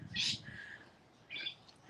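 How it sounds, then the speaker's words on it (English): Rainbow lorikeets give two harsh, screechy squawks, one near the start and another about a second later, fairly close and loud over a low rumble of background noise. "And those are rainbow lorikeets, that squawky noise you just heard."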